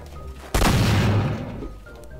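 A single cannon shot in the Garry's Mod sandbox game, one sudden heavy boom followed by a rumbling decay that fades over about a second.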